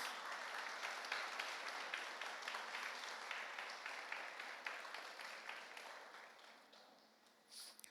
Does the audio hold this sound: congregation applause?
yes